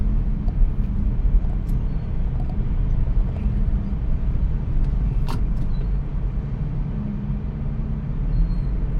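A car drives at speed on a city road in traffic, with a steady low engine and road rumble throughout and a faint passing sound near the middle.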